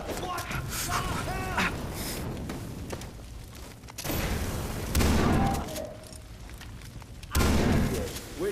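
Pump-action shotgun blasts in the game Far Cry 3, a few heavy booming shots spaced seconds apart amid combat noise, with people shouting and talking over the action.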